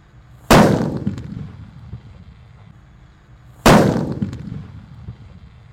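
Two loud, booming jumbo firecracker blasts a few seconds apart, each a sharp crack followed by a rumbling decay and faint crackle.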